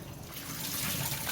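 Filtered water from a Berkey filter pours steadily over fresh wax, green and dragon tongue beans for rinsing, a soft continuous trickle and splash that grows slightly louder partway through.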